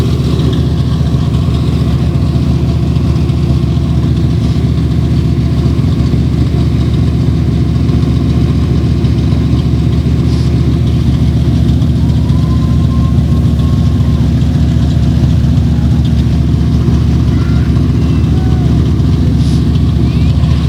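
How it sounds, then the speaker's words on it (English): A race car engine idles steadily in victory lane after a Topless Nationals feature race, a loud continuous low rumble with no change in pace throughout. "We will wait for him to kill the motor on this race car here."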